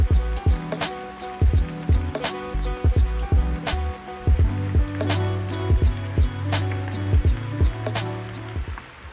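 Chicken tenders frying in hot oil, around 325 to 350 degrees, in a large cast iron pan. Close, steady crackling and popping with a dense spatter of sharp ticks and no talk.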